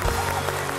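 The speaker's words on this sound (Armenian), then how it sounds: "Եկեք ավելի բարձր ծափահարենք սիրելի բարեկամներ" Audience applause at a televised singing competition, a dense, steady wash of clapping from a large crowd in a short burst.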